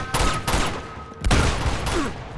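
Gunfire in the video game Uncharted 2, two loud bursts of rapid shots with echoing tails and a short gap between them, close and dominant with no talk over it.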